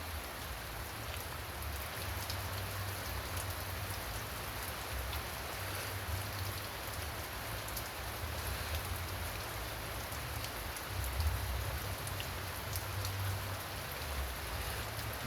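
Steady rain falls outdoors in a garden, a constant close hiss of drops on surfaces with no voices, holding evenly throughout.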